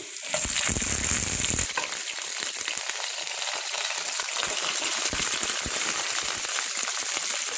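Ginger pieces, green chillies and shahjeera dropped into a teaspoon of hot oil in a pan, a loud splashing burst at first settling into a steady crackling sizzle with sharp pops, close and without talk.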